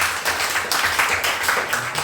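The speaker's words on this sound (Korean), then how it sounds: "우리 박수로 우리 환영하고" A church congregation claps in welcome during a Sunday worship service, a steady close patter of many hands with a few louder individual claps.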